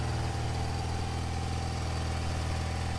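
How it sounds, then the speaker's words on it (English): An engine held at a steady 2500 rpm, a dense, unbroken drone with a low hum and even vibration, close and constant throughout with no voices. "Now the engine is started and I try to deliver 2500 rotations per minute from the engine"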